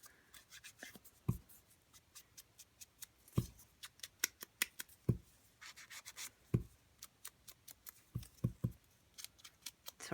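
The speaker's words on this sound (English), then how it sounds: "We're gonna just run it on the edge." A sponge dauber loaded with ink rubs along a paper edge, giving a string of soft, irregular scuffing strokes, close and quiet, with no talk.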